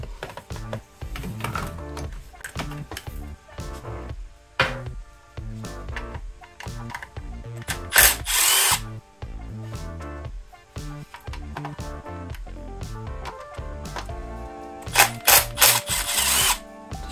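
Power drill backing short screws out of BMW camshaft actuators in a workshop, with repeated short bursts of whirring and brief pauses between screws, close and fairly loud, plus metallic clicks and handling noises throughout.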